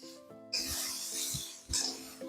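Dhokla batter being stirred and mixed by hand in a pot, giving a soft, wet rasping scrape in a few broad strokes, close and fairly steady, with no voices.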